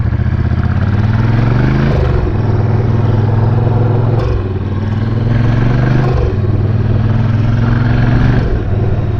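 A bobber motorcycle with a modified stock exhaust idles and revs, its low engine note rising and falling in repeated swells, a steady rumble that stays fairly restrained and close.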